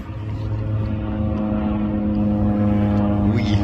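A Delta airliner passes overhead at Fargo on a chilly day, a steady loud engine drone with humming tones that holds and swells gradually, with no voices.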